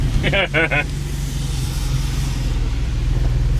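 An old 3.0 SI car driving on the road after years parked, a loud, steady low engine and road rumble throughout, with a brief voice over it near the start.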